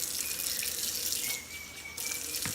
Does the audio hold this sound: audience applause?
no